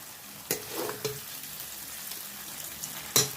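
Spice paste sautés in hot oil, a close, even sizzle. A few sharp clinks of a spoon against the pan punctuate it.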